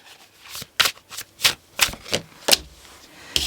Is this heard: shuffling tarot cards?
yes